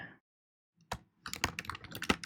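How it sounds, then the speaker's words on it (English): Quiet, close keystrokes on a computer keyboard: one short tap, then a quick run of clicking keys. "Are you typing too fast?"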